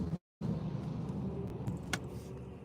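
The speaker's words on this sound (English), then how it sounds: "Big truck." A big truck rolls past outside a moving car as a steady low road rumble, with brief rattles and one sharp clack partway through, heard from inside the cabin.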